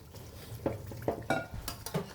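Beef with fat and spices for biryani being stirred in a cooking pot: a string of quiet scraping and clinking strokes against the metal, irregular and close, with faint sizzling.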